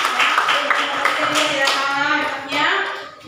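Applause from a classroom audience for a student group after its presentation: a steady, fairly loud patter of many hands clapping, lasting a few seconds and then fading slightly.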